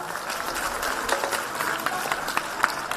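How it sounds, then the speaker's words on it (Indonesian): Applause for Ganjar Pranowo and Anies Baswedan from a crowd at a public event, a steady wash of clapping with a few sharper claps standing out, moderately loud throughout. "Tepuk tangan dong buat Kak Ganjar Pranowo dan Pak Anies Baswedan."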